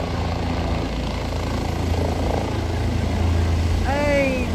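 A helicopter lands at a camp on the Kedarnath trek, its loud, steady rotor and engine roar filling the whole stretch with voices talking over it.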